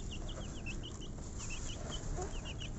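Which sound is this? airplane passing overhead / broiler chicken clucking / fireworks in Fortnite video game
broiler chicken clucking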